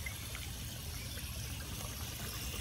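Water trickles and flows steadily through the drain pipes of a backyard aquaponics system, a faint continuous burble with a low steady rumble underneath and no voices.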